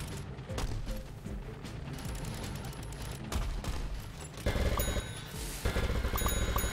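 Rapid bursts of video-game gunfire from Plants vs. Zombies: Garden Warfare 2, a dense loud fusillade of repeated shots with chiming game effects over continuous battle noise.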